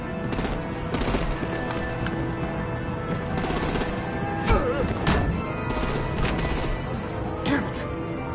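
Rapid gunfire and artillery bursts fill a battle scene in the Telltale Batman video game, sustained and dense throughout, with louder impacts around the middle and a voice talking over the barrage.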